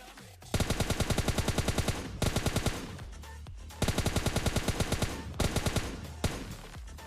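Automatic gunfire in the shooter game PUBG Lite, including an AWM sniper rifle, comes as four rapid bursts of sharp, evenly spaced shots, each stopping briefly before the next, loud and close with no talk.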